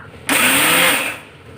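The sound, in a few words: blender grinding white and black mustard seeds with green chillies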